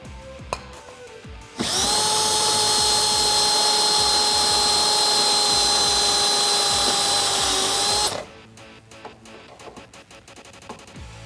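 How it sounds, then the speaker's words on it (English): A step bit drills a hole out to 7/16 inch in a Jeep Wrangler rear bumper, giving a loud, steady high-pitched whine for about six seconds, sharply cut off, with quieter handling noises before and after. "use my step bit and drill this out to the 7/16 inch mark"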